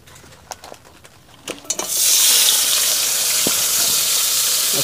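Shrimp dropped into hot mustard oil for a patal and shrimp dish: a few light utensil clinks, then a sudden loud, steady, close sizzle that keeps going without letting up.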